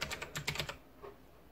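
Quick keystrokes on a computer keyboard, a short burst of close clicky taps that stops after under a second, leaving quiet room tone.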